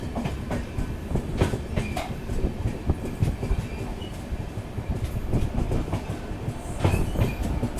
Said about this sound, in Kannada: Matsyagandha super fast express